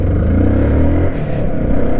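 A motor vehicle's engine roars loud and close during a ride in Kerala, a continuous low rumble with slight shifts in pitch and no voices.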